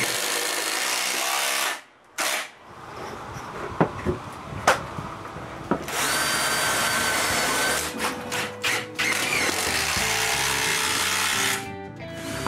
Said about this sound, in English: I begin by drilling a pilot hole, and I use a long screw.